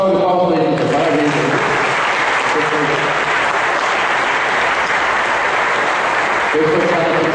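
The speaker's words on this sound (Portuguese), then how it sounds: "Dá uma salva de palmas para Lídia" A crowd claps steadily for several seconds, loud and sustained, with voices heard briefly at the start and end.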